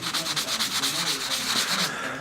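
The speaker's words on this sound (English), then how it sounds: "you're essentially using the weight of the paper to do the sanding" Sandpaper rubbed across a 3D-printed part in quick, steady back-and-forth strokes, a close, continuous scratchy rasp pulsing with each pass.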